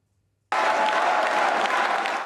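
Applause breaks out at the Christian Democratic Union headquarters as preliminary election results arrive: after a moment of silence, loud, dense clapping starts abruptly and keeps going.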